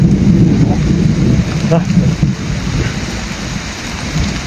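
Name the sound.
heavy rain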